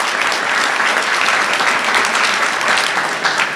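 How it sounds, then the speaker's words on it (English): Audience applause at an AGM: steady, dense clapping from a crowd, fairly loud and continuous throughout, with no talking over it. "Another applause, please."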